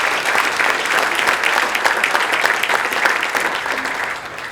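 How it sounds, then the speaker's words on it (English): A large audience at a tech industry opening-night event applauds entrepreneurs, giving a loud, sustained wash of clapping that stays even throughout. "Let's give them all a big round of applause."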